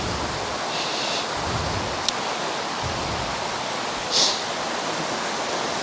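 Loyalsock Creek flowing steadily as a hiker crosses it, a broad constant rush of moving water close by, with a couple of brief splashes or clicks over the even flow.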